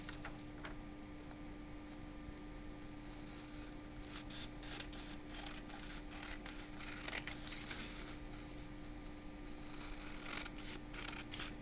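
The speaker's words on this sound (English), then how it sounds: "After you have measured it 10 by 10, you need to cut it out." Scissors cut out a 10 by 10 square from a printed photo, the blades giving a run of quiet, irregular snips and crisp paper clicks up close with no talking.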